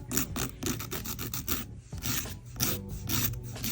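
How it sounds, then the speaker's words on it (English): A regular nail file rubs across fingernails in quick, close, rhythmic back-and-forth strokes, soft raspy scratching that continues steadily with no talking. "I'm going to go ahead and start with filing my nails. I'm just going to be using a regular nail file here."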